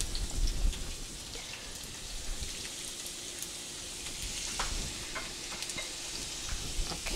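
Chopped onions frying in warm coconut oil in a pan, a steady close crackling sizzle with scattered sharp pops and spatters, continuous and alone with no talk.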